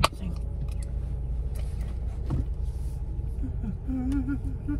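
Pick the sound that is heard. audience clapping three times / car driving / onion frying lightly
car driving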